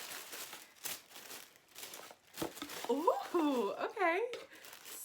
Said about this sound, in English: I'm opening it up and I see pink tissue paper